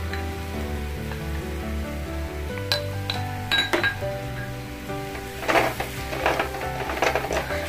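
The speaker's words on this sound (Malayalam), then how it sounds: "നമുക്ക് നന്നായിട്ട് മിക്സ് ചെയ്ത് കൊടുക്കാം" A spoon stirs chilli powder into chicken curry over a low flame. Metal clinks and scrapes against the pot above a gentle sizzle, with background music and no talk.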